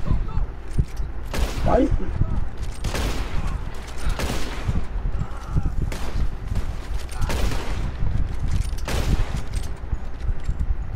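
Loud, repeated gunshots from a family session of the video game Red Dead Online, heard in irregular volleys at about one-to-two-second intervals, with voices talking over and between them.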